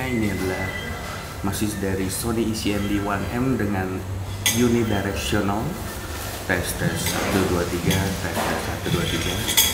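Restaurant ambience with music playing, scattered clinks of cutlery and dishes and a steady murmur beneath a nearby voice speaking throughout.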